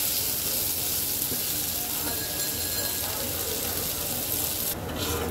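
Chopped onions fry in a pan for hilsa fish dopiaza, a steady close sizzle with crackle running throughout, some faint kitchen noise and stirring mixed in.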